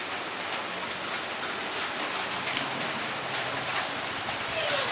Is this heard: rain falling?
yes